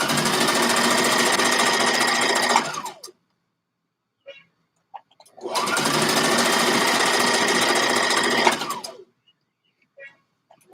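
A sewing machine stitches a fabric band in two loud, close bursts of about three seconds each, separated by a quiet pause with small handling clicks.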